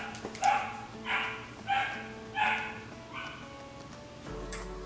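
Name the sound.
puppy barking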